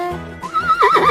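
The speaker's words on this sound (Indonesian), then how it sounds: "Salah satunya ini nih, kuda." A horse at a farm petting zoo gives a loud, close neigh that rises into a wavering whinny after a brief lower lead-in, with no talk.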